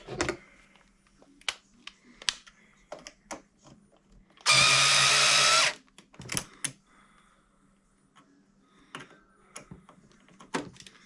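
An electric power tool tightens a fastener on a Traxxas Spartan Sr RC boat in one short, loud burst of about a second, framed by scattered clicks and handling noises, with no voices.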